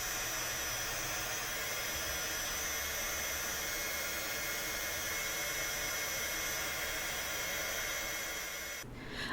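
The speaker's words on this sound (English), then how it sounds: "I used my heat tool to help with the drying process" A heat tool blows a steady, loud broadband whoosh across a damp stencil panel for card making, running continuously without pause before cutting off abruptly near the end.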